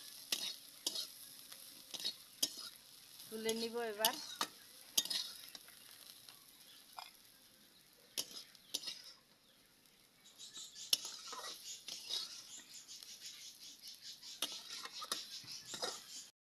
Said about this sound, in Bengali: করলা ভাজাও হয়ে আসছে